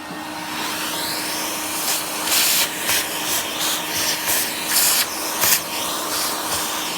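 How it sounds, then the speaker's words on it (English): A small vacuum cleaner cleans a dirty 110 volt fan motor, with a constant close hiss and airflow broken by irregular louder bursts of sucking. "A little vacuum at it all."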